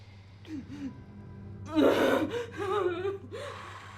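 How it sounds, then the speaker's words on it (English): A person takes a deep breath in, a sharp audible gasp with breathy sighing, close and fairly quiet, in an emotional scene with a soft low hum behind. "Take a deep breath in."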